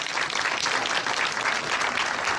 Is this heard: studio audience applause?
yes